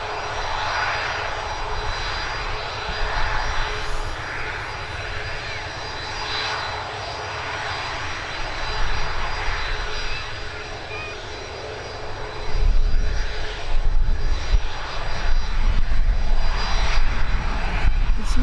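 A Ryanair airliner departs Birmingham Airport, its jet engines producing a sustained roar that swells louder toward the end as the aircraft powers up nearby, with faint talk in the background.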